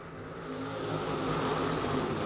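Dirt late model race cars at Modoc Raceway roar off in a heat race, a broad steady engine drone swelling slightly as the pack accelerates, heard from a distance with no talk.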